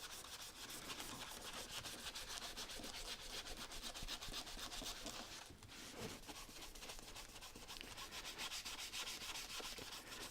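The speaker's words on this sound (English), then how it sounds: "like any sanding job, you have to work the coarser grits to start" Continuous hand sanding of a Turner 4 1/2 smoothing plane with coarse grit, quick rhythmic rasping strokes rubbing back and forth, close and steady, no voices.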